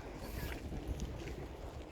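Strong wind at Tuz Gölü salt lake in Turkey buffets the microphone with a steady low rumble and hiss, constant and fairly loud, with no one talking.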